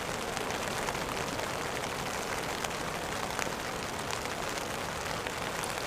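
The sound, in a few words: rain falling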